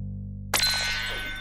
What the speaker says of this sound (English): It's the Doodlebop Red Hot Phone!